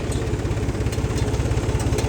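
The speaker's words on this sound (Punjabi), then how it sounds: "ਟਰੈਕਟਰ ਤਵੀਆਂ ਫੇਰਨ ਲੱਗਿਆ ਬਾਈ" A 1992-model tractor engine chugs steadily at close range with a rapid rhythmic thump, pulling a disc harrow continuously without pause; no voices.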